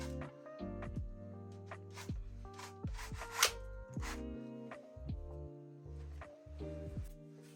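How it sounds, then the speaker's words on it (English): Blackout shutters being handled and closed in a camper van kitchen, close rubbing, sliding and scraping of panels with soft knocks and fiddly creaks in a quiet interior, no talking. "In the kitchen, I close the blackout shutters"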